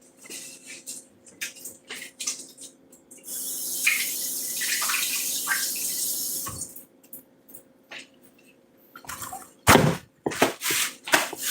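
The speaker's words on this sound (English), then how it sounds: "Let me go ahead and rinse my hands real quick." Water runs from a kitchen tap for a few seconds as hands are rinsed, a steady broadband rush, with scattered clinks and handling knocks before and after and no talking.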